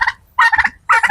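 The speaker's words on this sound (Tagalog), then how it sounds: "Kapakita ko sa inyo yung pabo namin" A turkey gobbles three times in quick bursts, loud and close, with short pauses between the rattling calls.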